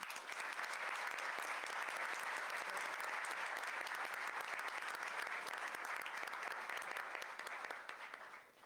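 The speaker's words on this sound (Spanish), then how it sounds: "para quien le pido un aplauso" Audience applause welcoming Dr. Dulce María Sauri to speak at a forum on constitutional reforms, a long, steady wash of clapping that tapers off at the end.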